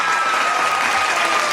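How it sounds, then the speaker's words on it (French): An audience at a young musical talent show in Gabon breaks into loud, dense applause for a young singer, a continuous wash of clapping throughout. "on applaudit très très fort pour Orphée, c'est magique."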